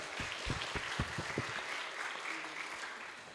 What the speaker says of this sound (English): please give applause again for our speakers and moderator